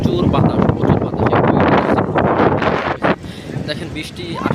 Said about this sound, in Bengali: প্রচুর বাতাস, প্রচুর বাতাস।